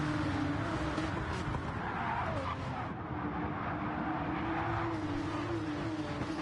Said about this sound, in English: Porsche's making absolutely beautiful noise as they hum past us